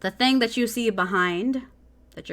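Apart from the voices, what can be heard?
None of the usual background noises is heard.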